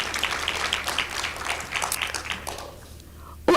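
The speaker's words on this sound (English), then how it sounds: "Please give her a round of applause as she walks up." A conference audience at an indaba on adolescent pregnancy applauds as a speaker walks up to the stage, a crowd clapping under chatter that thins out and drops away near the end before a sudden bump.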